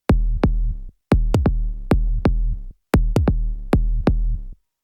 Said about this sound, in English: we replaced the kick with this kick bass that sounds like